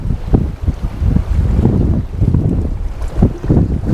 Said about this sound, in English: That wind is picking right up now.